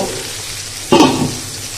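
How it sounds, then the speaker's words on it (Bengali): Vegetables sizzle in a hot pan with a steady crackling hiss, swelling into a louder burst as they are stirred midway. "সবজিটা ভালো করে কষায় নেব"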